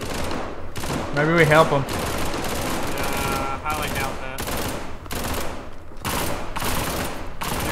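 Rapid bursts of gunfire in the video game SCP 5K, layered and continuous with broadband crackle, heard under excited player talk.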